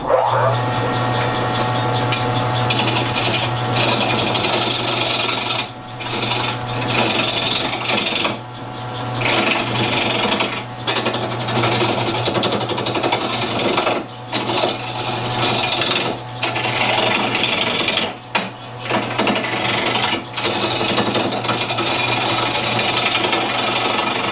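A wood lathe turns a bowl blank at low speed, with a steady motor hum and continuous scraping and rasping as the tool cuts, broken by several short pauses.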